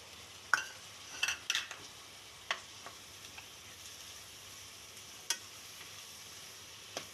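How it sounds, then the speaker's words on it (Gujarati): Tomatoes go into sizzling masala in a pan for paneer bhurji, making a faint, soft sizzle beneath scattered sharp clinks and scrapes of a spoon against the pan. "હવે આપણે આમાં ટમેટા નાખી દઈએ, ટમેટા છે એને નાખી દઈએ।"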